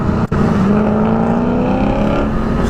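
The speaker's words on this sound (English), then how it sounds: "listen to this thing. He's got a hell of an exhaust system on that bad boy." A motorcycle with a loud aftermarket exhaust roars close by, its engine note rising as it passes, heard from beside a 2022 Aprilia Tuono V4 with no talking over it.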